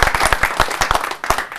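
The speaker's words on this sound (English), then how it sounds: "a round of applause for Peter." A guest is welcomed at a Rotary club gathering with a short burst of audience applause, about a dozen sharp claps in a quick, uneven rhythm, close and fairly loud, with no speech over it.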